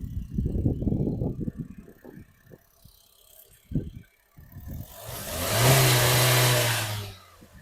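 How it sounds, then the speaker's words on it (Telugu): A 2011 Honda Jazz petrol car engine comes up near the end as a loud rising hum that swells and holds steady, after a quieter stretch of scattered knocks and shuffling. "సైలెంట్గా ఉందండి ఇంజన్ కూడా."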